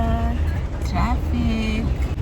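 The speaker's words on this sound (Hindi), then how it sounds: "ट्रैफिक।" Road traffic in Guwahati rumbles steadily nearby, with sustained horn blasts sounding over the engine drone.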